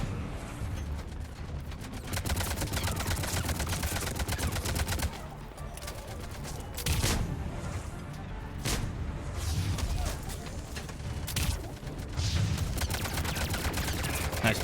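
Sustained gunfire from the Mass Effect 3 video game: rapid, dense volleys of automatic shots with a few heavier bursts, continuous over the whole stretch, with a player talking over the combat.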